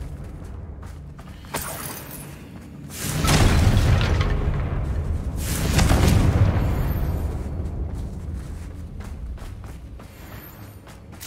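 Confringo blasting spell explosions in Hogwarts Legacy, two heavy rumbling booms a few seconds apart, swelling and slowly decaying over a low background, with no talk.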